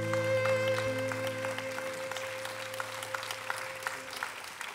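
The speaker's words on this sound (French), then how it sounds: "vous pouvez l'applaudir" An audience applauds after a film screening, steady clapping from a room full of people filling the clip, while a sustained musical tone from the film's closing lingers beneath it.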